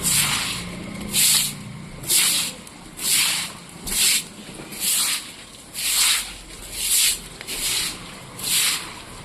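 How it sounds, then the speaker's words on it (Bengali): Water is poured out in repeated splashing gushes while a pigeon bath is cleaned, with about ten rhythmic whooshes spaced roughly a second apart, close and fairly loud over a low background murmur. "জলটা এবার ভালোভাবে পরিষ্কার করে দিতে হবে সুন্দরভাবে জলটা বাইরে পাঠিয়ে দিতে হবে"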